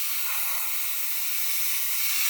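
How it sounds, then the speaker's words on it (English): A light spray coat goes onto an Airfix 1/24 Bf109 G-5/G-6 scale model: a steady, close hiss that holds without a break. "if I spray it on lightly"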